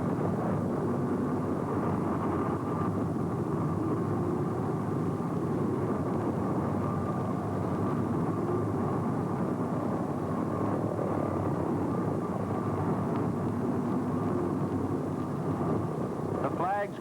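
An aircraft taxiing to its berth at the Willow Run Ford plant, with a steady droning engine roar throughout and wind noise over it, a narrator talking on top.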